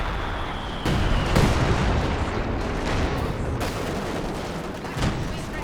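Booming artillery barrages in the strategy game Company of Heroes 2 roll on without pause, loud and dense. Several sharp impacts stand out against a heavy rumbling wash of explosions.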